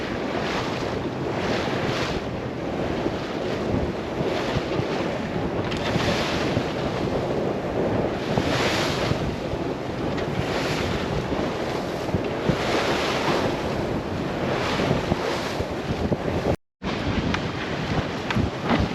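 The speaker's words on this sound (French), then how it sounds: "les vagues sont très grosses, plus que ce que Windy nous avait prévu" Big ocean waves wash and surge continuously around a boat at sea near St Barth, with steady wind rushing over the microphone and rhythmic swells rising and falling, loud and unbroken apart from a brief dropout.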